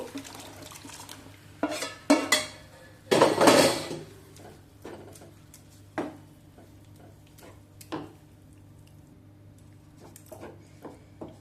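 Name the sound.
adding thickened milk to carrot halwa in pot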